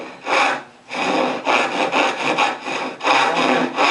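A Fatmax pull saw, a rough cross-cut saw about 15 years old, cutting across a wooden board, heard as several loud, rasping strokes close by, each a sustained scrape with short gaps between, and no talking.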